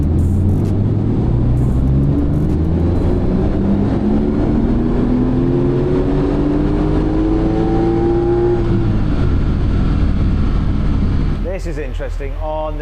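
A Porsche 911 Turbo S engine revs on a dyno toward 7,500 RPM, a loud, close roar climbing steadily in pitch for several seconds before cutting off and falling away near the end.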